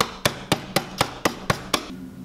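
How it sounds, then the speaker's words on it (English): Crystals inside a bag are struck with a hammer in eight sharp, evenly spaced blows, close and distinct, followed by a brief quiet moment. "So I put it all in a bag and then I'm just gonna hammer it."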